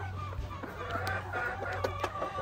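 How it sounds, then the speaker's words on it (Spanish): A rooster clucks and calls among other chickens in a poultry yard, short clucks and a few brief squawks scattered over a low background hum, moderately close but not very loud. "Este gallo no lo cambio por nada."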